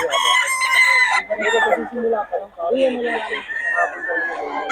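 A rooster crows loudly nearby, with clucking fowl and other crowing following in a busy farmyard.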